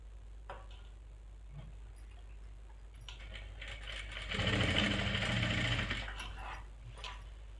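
A sewing machine stitches plazo panels together, running in a short burst of rapid, steady whirring in the middle after some faint ticks and clicks, quiet and close indoors.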